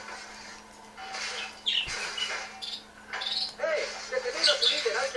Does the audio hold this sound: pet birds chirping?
yes